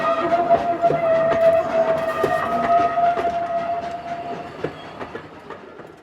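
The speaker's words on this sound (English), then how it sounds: "He fell asleep to the rattling song of the train wheels." Rattling railway-car wheels performed as a radio-play sound effect, a close, busy clickety-clack rhythm with metallic clanks and a sustained whistle-like tone, fading toward the end with no voices.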